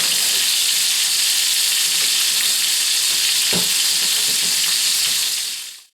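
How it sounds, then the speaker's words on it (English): Beef short ribs browning in a hot pan give a loud, steady sizzle and crackle throughout, with a few sharper pops and spatters, no talking. "We're just trying to get some brown on the meat for the flavor and the effect."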